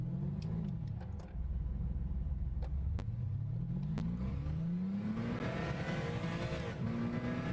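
A race car engine in the racing game Gran Turismo 6 revs loud and close, its pitch climbing and dropping repeatedly through gear changes, then rising into a sustained high whine near the end.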